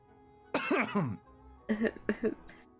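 A character in Genshin Impact coughs, first in a harsh burst of several coughs and then in a series of shorter, quieter coughs and throat clearing, close and alone.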